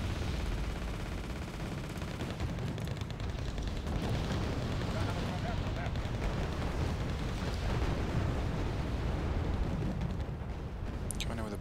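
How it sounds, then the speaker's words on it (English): A bombing run in Wargame Red Dragon sets off a dense, continuous barrage of explosions and rumbling booms layered with crackling gunfire, loud and unbroken throughout. "Coming in with a bombing run."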